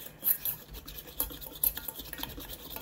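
Milk is stirred into batter for an old-fashioned sponge cake, giving quiet, close, continuous swishing and scraping of a whisk or spatula against a bowl, with faint clinks.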